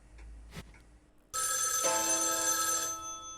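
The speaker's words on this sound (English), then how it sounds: "Telephone." A telephone rings in the video game Spirit Hunter: NG. A faint tap comes first, then a sudden, sustained electronic ring starts partway through and keeps going loudly to the end.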